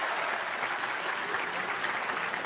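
An audience at a public Q&A session with Anies applauds an audience member named Antonius, a steady, dense round of clapping that holds at an even level throughout, with no voices over it.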